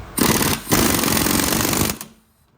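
An impact gun hammers in two loud rattling bursts, a short one and then a longer steady one, as it drives a ball joint press against the front ball joint of a 2000 Jeep Wrangler, then the noise cuts off.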